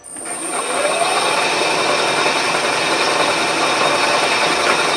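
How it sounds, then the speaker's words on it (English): Steady mechanical grinding and ratcheting as the knee of a milling machine is wound up by crank, continuous and close, with a dense metallic whir throughout. "I'm going to zero the knee, and I'm going to wind the knee up"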